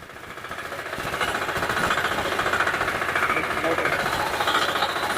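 A small power tiller engine chugs steadily and loudly close by, a rapid rattling knock that holds constant throughout.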